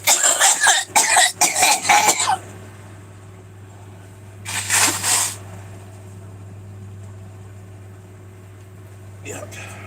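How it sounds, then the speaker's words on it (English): A person blows their nose in loud, forceful honking bursts, several quick blasts at first followed by one more a few seconds later, with a low steady hum beneath. "I gotta blow my nose."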